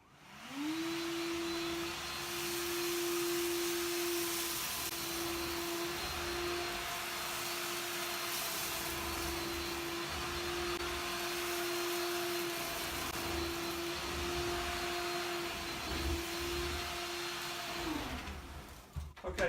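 A Bosch Athlet cordless vacuum cleaner on turbo mode whines loudly and steadily for about eighteen seconds while cleaning up porridge and cookies, its motor spinning up at the start and winding down at the end, with no talking.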